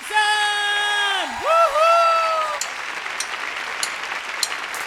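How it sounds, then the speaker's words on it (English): Audience whooping and applause at an indie music showcase as an artist is brought up: a long sung-out whoop glides and dips over scattered clapping, then crowd applause continues with a few sharp claps. "Right now, keep that applause going."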